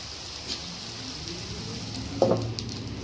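Sarva pindi flatbread made with bottle gourd sizzles steadily in oil on a pan, with a brief louder burst partway through as it is flipped, close and continuous.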